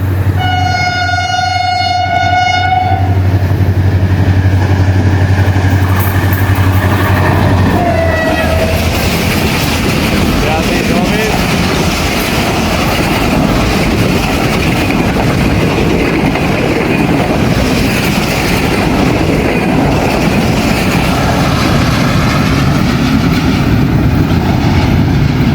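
The Sir Syed Express passes, opening with a long two-tone train horn blast and a shorter second honk, then a loud, close, continuous rumble and clatter of wagons rolling by.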